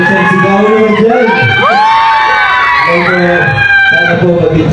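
A crowd at a movie premiere night shouting and cheering loudly, with children's high shouts and whoops rising and falling in waves, close and energetic.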